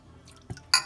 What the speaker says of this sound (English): while my water is heating, I'm gonna go ahead and start adding jars in here so they can get sterilized a little bit